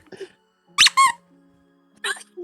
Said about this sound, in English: The perks of having dog toys in my room. I can squeak something.